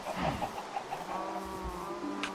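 Chickens cluck in the video game Minecraft Bedrock Edition, with soft, short clucks and a few drawn-out calls, faint and close against a quiet background.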